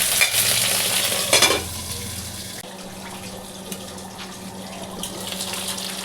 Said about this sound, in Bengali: দিয়ে আমি ঢাকা দিয়ে ভালো করে আগে এটাকে ভেজে নেব